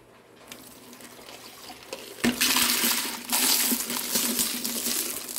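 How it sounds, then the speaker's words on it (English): Small tumbling rocks and ceramic media rattle and clatter as they are poured into a metal strainer from a rotary rock tumbler, starting with a few clinks and then a sustained gritty pour. "and then we pour our rocks in here."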